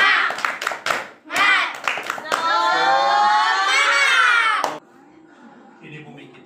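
A class of children claps a rhythmic spirit chant, with a few sharp sets of claps amid shouted voices, then a long, loud sung or chanted group shout, and quieter talk at the end.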